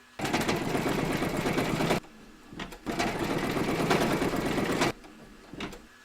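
Embroidery machine stitching a King Charles III coronation coaster design in red jewel thread, running loud and steady in two long bursts with a short pause between, then a brief restart.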